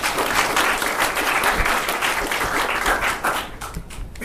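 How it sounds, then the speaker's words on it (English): A seminar audience gives the speakers a full round of applause, dense sustained clapping from many hands that fades out near the end. "please give a round of applause for them"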